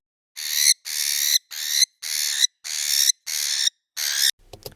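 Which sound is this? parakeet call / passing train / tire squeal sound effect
parakeet call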